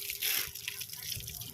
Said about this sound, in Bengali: হাতটা ধুয়ে নিই আগে।